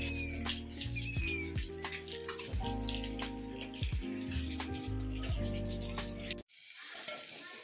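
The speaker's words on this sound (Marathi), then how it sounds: "पाऊस चालू आहे." Rain falls steadily outdoors, a dense, loud hiss and patter that fills the scene until it cuts off abruptly near the end, leaving a quieter background.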